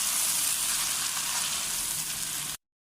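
Biryani ingredients mixed in a hot pan make a steady frying sizzle with faint stirring, close and continuous until the sound cuts off abruptly.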